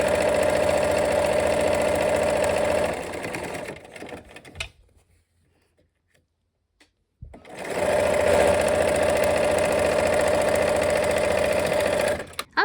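Sewing machine stitching rows of a quilt block, a steady close mechanical whir that runs for a few seconds, winds down to silence, then starts up again at full speed.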